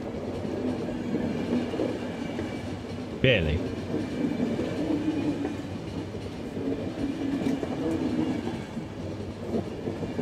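A train rolls steadily along the rails in The Final Station, a low continuous rumble with faint rhythmic clatter, briefly punctuated by a sharp metallic clank, while a voice speaks softly over the moving carriage.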